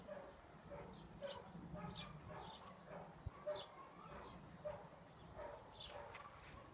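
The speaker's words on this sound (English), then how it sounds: "Oh, listen to those bloody dogs." Several dogs bark repeatedly in the distance, overlapping yaps and barks in an uneven rhythm over a low background hum.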